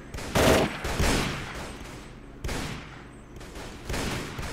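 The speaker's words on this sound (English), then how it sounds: "I love the machine gun in the background." Machine gun fire rattles in bursts from the background of a Mount & Blade Warband Red Wars mod battle, loud sustained volleys with short lulls between.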